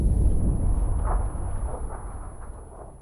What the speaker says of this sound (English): I'm throwing a nade downstairs, Chris.